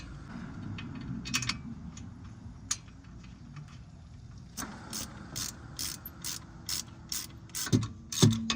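A ratchet wrench tightening the brake caliper on a 2006-2012 Ford Fusion during front wheel bearing work: soft repeated clicking bursts, close and fairly quiet, growing sharper and louder toward the end, with no talk.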